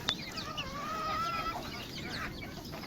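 Free-range country hens cluck close by on a poultry farm, a short run of chattering calls over outdoor background noise, with no speech.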